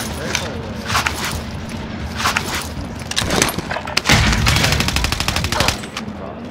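Rapid automatic gunfire in a shooter video game crackles under ongoing voice chat, with scattered shots early on, then a loud, dense burst of sustained fire near the end.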